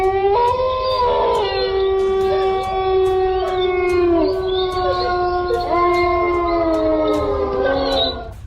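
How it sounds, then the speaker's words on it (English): Eerie, drawn-out howling from a dog or wolf, several long wavering tones that slide up and down and overlap, loud and continuous for the whole stretch, with faint ticking clicks above. "Could the howling be coming from somewhere else?"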